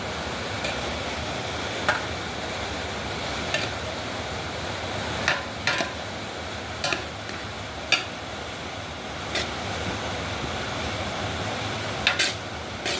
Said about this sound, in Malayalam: ഓരോ അരിക്ക് ചേർത്ത് ഇങ്ങനെ വേണം ബിരിയാണി ഇളക്കാൻ.